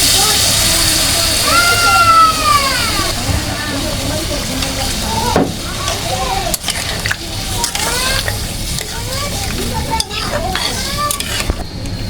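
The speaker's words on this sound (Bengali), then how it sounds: "আমার একটু পানি দিয়ে দিচ্ছি" Water is poured into a pan of pumpkin and prawn curry, raising a loud sizzle and bubbling with stirring scrapes, while someone talks nearby.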